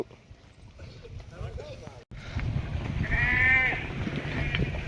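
Goats let loose to drink water bleat in a couple of wavering calls, one faint early and a louder one later, over a background of outdoor rumble and talk.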